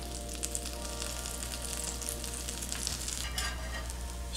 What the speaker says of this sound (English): Toast in the pan.